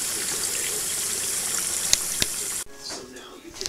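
Water and gold-bearing concentrate are emptied into a gold pan, a steady rushing pour that cuts off abruptly, followed by quieter trickling and a few small knocks.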